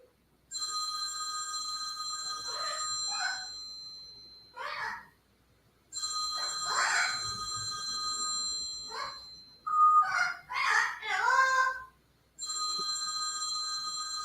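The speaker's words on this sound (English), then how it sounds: "that's my husband's phone" A husband's phone rings with a bright electronic ringtone in repeated bursts separated by short pauses, clear and close, with some chiming notes in between.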